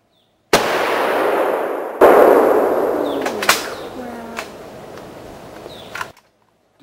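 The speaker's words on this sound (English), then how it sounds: "No, it's a gun, it makes noise." A gunshot fired outdoors rings out sharp and loud, followed by a second crack with a long echoing tail and a brief voice, then a final click-like snap.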